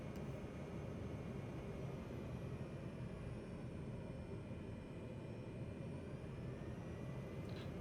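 A steady, continuous drone of a Cessna 208 Grand Caravan turboprop engine in Microsoft Flight Simulator, heard as an even cabin-style roar with a faint high whine, constant in level and without talk.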